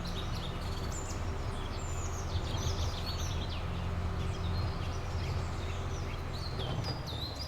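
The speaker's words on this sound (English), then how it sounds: "I hear birds, they are singing." Birds sing and chirp in a Farming Simulator 22 landscape, with bright overlapping calls scattered over a steady low ambient rumble, no talking.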